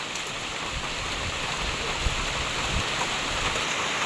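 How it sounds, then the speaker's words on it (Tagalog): Heavy rain pours down in a dense, steady hiss, loud and unbroken, with no voices. "Sobra pong lakas po na ulan"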